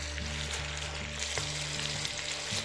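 Cabbage frying in bacon fat in a pan: close, dense sizzle and crackle holding steady over a low droning hum, with no voices.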